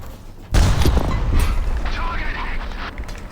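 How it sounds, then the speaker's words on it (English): Tank fuel exploding in War Thunder Mobile: a sudden loud deep blast followed by a long rumbling roar of fire and debris, heavy and close, with a voice talking over it. "Fuel exploded."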